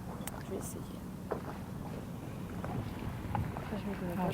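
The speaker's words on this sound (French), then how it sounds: "on entend l'eau taper contre les bateaux, les coques des bateaux" Faint, irregular slaps and knocks of water against ferry and boat hulls come through a steady wash of wind and background noise.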